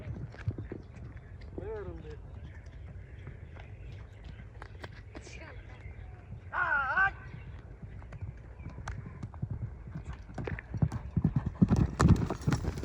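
Clip-clop of a Kyrgyz-bred horse's hooves, a Don–Kyrgyz crossbreed, running outdoors in a steady, fairly close rhythm, with a couple of short whinnies partway through and people talking around it.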